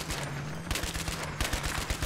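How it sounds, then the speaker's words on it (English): Rapid gunfire rattles in a Battlefield 3 match, with loud, dense bursts of shots at an enemy jeep. The shooting is close and nearly continuous, with repeated sharp reports over a low vehicle rumble. "There's an enemy jeep there. Dude, shoot the jeep!"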